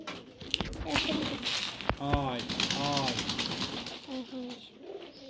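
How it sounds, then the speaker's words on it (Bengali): Farm pigeons cooing as they come out to be fed, with soft repeated coos and light fluttering close by while a person calls to them and talks over the birds. "দেখুন বন্ধুরা, কবুতরগুলো সব চলে আসবে একে একে"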